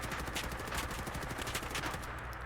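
An OTs-14 Groza rifle fires in Fallout 4 as rapid automatic bursts of loud, close gunshots, with repeated sharp cracks throughout and a brief tail at the end.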